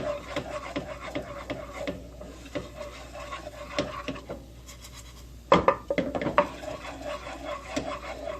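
A spoon scrapes and stirs risotto rice with onions in a pan, a close, rhythmic rasping and rubbing that repeats steadily, with a few louder clanks of utensil against pan partway through.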